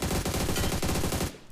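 Rapid automatic gunfire sprays in the mobile battle royale game BGMI, a dense, loud, continuous burst of shots with a steady rhythm that cuts off abruptly near the end.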